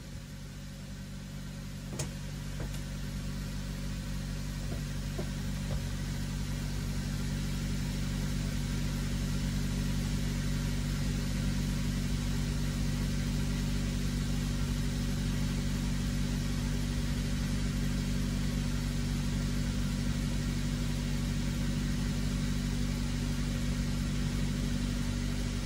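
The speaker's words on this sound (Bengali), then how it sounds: "তো এই যে কুল স্টার্টের জন্য আমি দাঁড়াচ্ছি, কুল স্টার্ট দিয়ে দিছি" A car engine idles steadily after a cold start, giving a constant low, even drone for the whole stretch with no revving and no voices.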